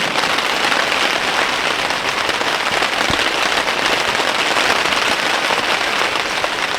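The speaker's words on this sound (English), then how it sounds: "Just pouring rain outside and it's still dark" Heavy rain pours steadily onto a hot tent in a cold forest before dawn, a dense continuous hiss of drops drumming on the fabric close by, unbroken for the whole stretch with no talk.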